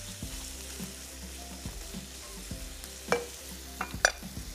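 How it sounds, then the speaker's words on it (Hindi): Chicken fries in a green masala, a soft continuous sizzle broken by repeated spoon scrapes and sharp clinks against the pan. "इसको अब हमने फ्राई कर लेना है चिकन को।"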